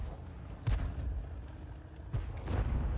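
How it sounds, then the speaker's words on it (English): A leFH18B2 105mm artillery gun firing in a tank battle game, two deep booming shots about a second and a half apart over a steady low rumble of engine and battlefield noise. "Now he's firing the armor piercing now"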